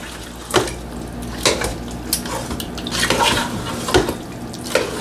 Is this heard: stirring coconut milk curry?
yes